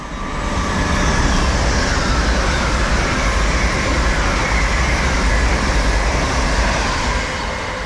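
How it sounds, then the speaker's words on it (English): LNER service 801 227 passes through on the East Coast Main Line, a loud, continuous broadband roar of wheels and rushing air that swells in and holds steadily for several seconds. "passing through now is our first LNER service of the day"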